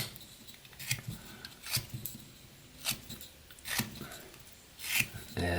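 A knife whittles a small wooden miniature gnome hat, shaving it round in a series of short, close scraping strokes about a second apart, quiet and alone.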